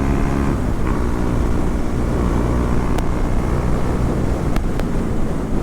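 A naked motorcycle is ridden on the road, its engine a continuous low rumble mixed with heavy wind noise, steady and loud, with a few faint clicks over it.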